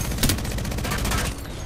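Rapid automatic gunfire in a Fortnite match, a dense burst of shots lasting over a second, loud and close, with players talking over it.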